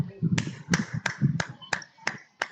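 A few participants clap after a book review session, sparse separate hand claps in an uneven rhythm, close and fairly quiet, with talking underneath.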